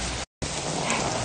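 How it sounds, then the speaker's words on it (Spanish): Heavy rain falling with wind outdoors while someone swims, a steady dense close wash of rain with a brief silent gap near the start. "Hace viento con la lluvia"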